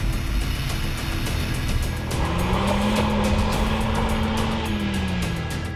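A race car's engine drops down to first gear on track, its droning revs sliding into a rising then falling tone over a steady roar of engine and road noise, with no talk.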